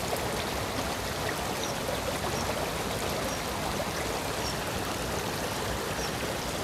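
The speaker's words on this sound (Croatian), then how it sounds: "Pa malo uživajte u žuborenju potočića." Babbling brook beside the Bliznec walking trail, a steady, close, even rush and gurgle of shallow flowing water with no voices.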